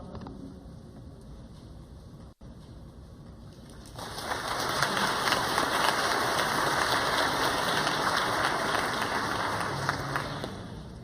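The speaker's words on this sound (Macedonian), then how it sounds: "Да го поздравиме со еден аплауз." An audience at a youth Nobel Prize award show bursts into loud, dense applause after a few quiet seconds. The clapping holds steady to the end with no speech.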